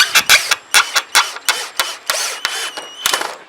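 A power driver sinks a 50mm panel screw in a series of short, loud whirring bursts, each separated by a brief pause as the bit stops and starts again.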